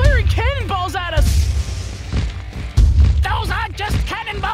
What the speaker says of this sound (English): They're firing cannonballs at us.